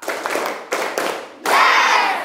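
A middle school class claps together in the 'tepuk 5' rhythm: loud, dense group clapping in short bursts, with the last burst ringing on with a roomy echo.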